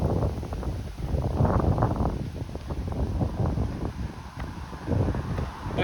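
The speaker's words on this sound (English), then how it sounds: "Wow, the wind's picking up." Gusting wind by the lakeshore on Toronto Islands buffets the microphone in steady broadband rushes, rising and falling, loud and close.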